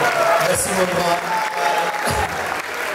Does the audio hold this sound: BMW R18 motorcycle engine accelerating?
no